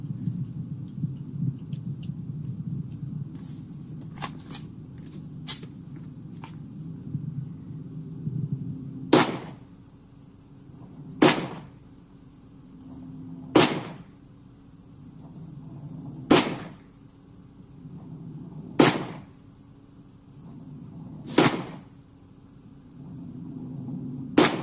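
Seven sharp shots from a Girsan MC Hi-Power-style pistol fitted with a BH barrel, fired at a steady pace of about one every two to three seconds after a stretch of low outdoor rumble and small handling noises.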